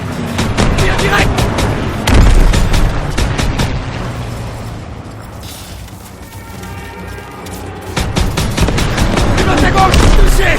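Call of Duty WWII game gunfire: rapid bursts of automatic weapon fire and booming shots, loud and close, fade into a quieter stretch mid-clip before the shooting resumes, with battle noise and voices in the mix.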